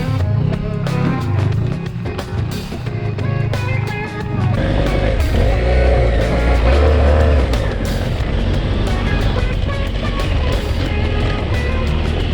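A Honda CB500X motorcycle engine runs loud and close on a Peak District trail, a steady drone with shifting throttle over crunching, rumbling ground noise for the whole stretch.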